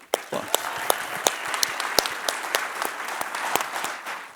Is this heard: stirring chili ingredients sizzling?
no